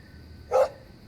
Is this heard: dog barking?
yes